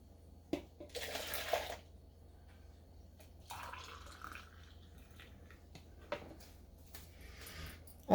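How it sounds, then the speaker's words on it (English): Milk for café con leche is poured back and forth between containers at home, giving a few soft splashing, trickling pours separated by quiet gaps, faint and close. "And pour it back and forth."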